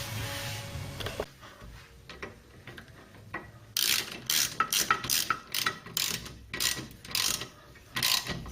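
Ratchet spring compressors cranked to lock down the coil springs on a Ford Cortina Mk3: a run of sharp, rapid ratcheting clicks in uneven bursts, close by, with mechanical clanks and no talk.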